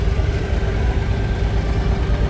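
Boat engine chugging steadily as a boat moves slowly along a calm canal in Dubai, a continuous low rumbling drone with no breaks, fairly loud and close.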